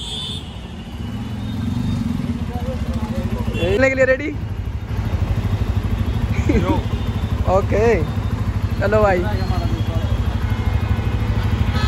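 A new Bajaj Pulsar N250 motorcycle's engine runs steadily close by, a constant low rumble that swells briefly, with several people talking over it.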